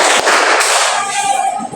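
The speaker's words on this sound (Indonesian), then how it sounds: "Tepuk tangan 5." A group of teachers claps together during a school workshop on positive school culture, producing a dense, loud burst of sharp hand claps that runs continuously for a couple of seconds.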